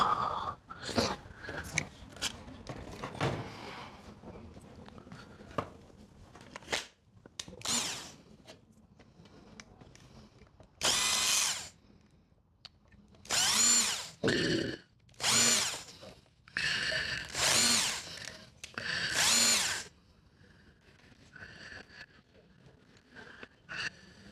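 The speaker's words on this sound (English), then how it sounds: "Drill." A power drill whirs in repeated short bursts, loud and close, each spin-up lasting about a second with brief pauses and clunks between them.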